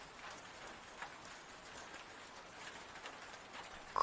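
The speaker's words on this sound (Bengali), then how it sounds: "বাইরে খুব বৃষ্টি হচ্ছে মা" Heavy rain falls outside, a soft, steady patter with faint droplet ticks scattered through, quiet and distant, with no voices.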